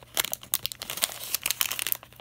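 Plastic packaging crinkles and crackles up close as a dollar-store Optimus Prime Transformers toy is pulled free, a dense, continuous rustle with no talking.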